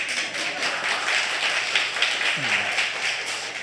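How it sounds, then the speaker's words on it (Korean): A church congregation at a Sunday worship service applauds the choir, a sustained, moderately loud patter of clapping that fills the room, with a voice faintly heard partway through. "박수 한번 쳐주세요."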